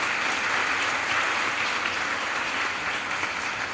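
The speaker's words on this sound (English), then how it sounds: "Can we have the round of applause now, please?" Audience applause fills a school prize giving ceremony at Montego Bay High School, a steady dense wash of many hands clapping at full strength throughout, with no voices on top.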